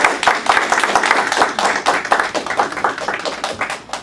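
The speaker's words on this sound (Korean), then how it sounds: "우리 나오실 때 뜨거운 박수로 환영하시겠습니다" A church congregation claps warmly to welcome guest pastors, producing dense, close, fairly rhythmic hand claps that rise and fall in quick pulses.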